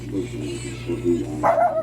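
Pet dogs bark at cats chasing each other nearby, a few short muffled barks and yips at moderate distance over a low steady background hum.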